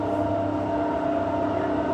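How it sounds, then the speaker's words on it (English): A Cockburn line train at Perth station gives off a steady low rumble and hum at moderate distance, faint and unbroken through the short moment. "there's the Cockburn train"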